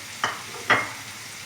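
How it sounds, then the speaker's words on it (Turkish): Onions saute in hot oil in a pan, a soft low sizzle broken by two quick stirring scrapes, close and quiet. "Bu sefer soğanlarımı ekliyorum. Pembeleşene kadar kavuracağım."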